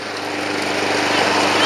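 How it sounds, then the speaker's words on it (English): Small gasoline lawn mower running steadily while cutting an overgrown, weedy yard, its broadband engine drone loud and close and holding constant throughout. "I don't know if you can even call this a lawn anymore. It's more like mowing weeds."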